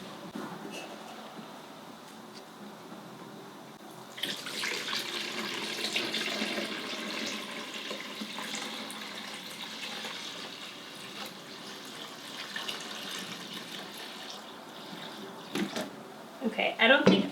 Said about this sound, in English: So I'm gonna pour it into this bowl and try not to make a mess.